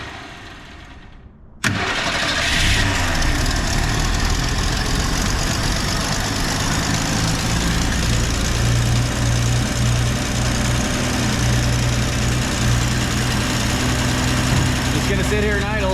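A 1965 Ford Falcon engine cranks and catches after a short quiet stretch, then settles into a steady, loud, slightly uneven idle that runs on without pause, recorded close up.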